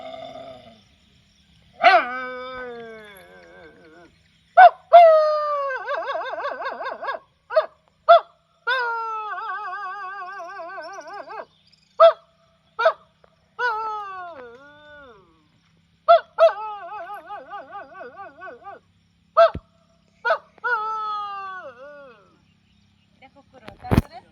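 A voice imitates a dog crying, producing a series of whimpering, yelping and howl-like wails in separate bursts with silent gaps, close and loud.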